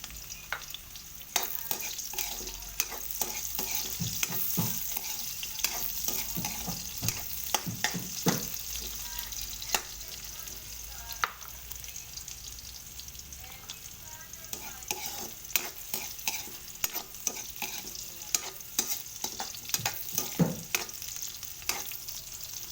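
Onions frying in a pan, a continuous bright sizzle with frequent scraping and tapping stirring strokes, close and steady throughout.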